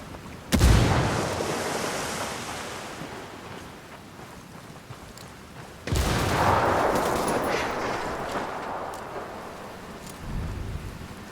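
Two frag grenade explosions in the video game Ghost Recon Wildlands, each a sudden deep boom followed by a long rumbling decay, a few seconds apart and fairly loud, with a low ambient bed between them.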